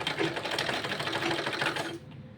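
A sewing machine lock-stitches a small child's kurta in one steady, close, rapid run of needle clatter, stopping abruptly near the end.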